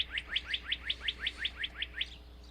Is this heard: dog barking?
no